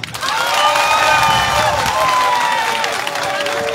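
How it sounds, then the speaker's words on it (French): Audience applauding and cheering at a crowded rally, dense sustained clapping and shouts at a loud, even level with voices mixed in. "Il faut applaudir ça."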